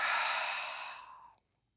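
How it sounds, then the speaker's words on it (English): A deep, slow exhale during a guided breathing exercise, one long breathy rush of air close to the microphone that fades out after about a second and a half. "And exhaling fully."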